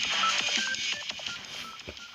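Phone keypad dialing tones in the Madout2 BigCity Online video game, a quick series of short electronic beeps over faint game background sound.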